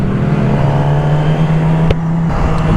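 A McLaren 570 sports car's engine drones loud and close with a steady low tone, then a brief sharper burst as it passes on a road.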